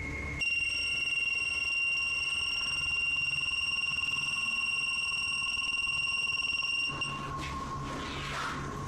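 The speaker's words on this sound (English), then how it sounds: "an EMF sensor, which starts beeping dramatically when it's held up toward one part of the ceiling" An EMF sensor emits a loud, steady high-pitched electronic tone with harmonics, droning for about seven seconds as it is held toward a ceiling, then cuts off abruptly, leaving quieter background noise.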